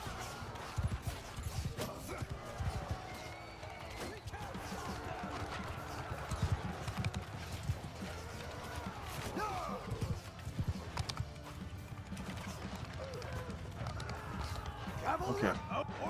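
Horse hooves gallop in a Bannerlord battle as mounted troops charge, a steady drumming clatter with occasional whinnies, mixed into dense battle noise and talk throughout.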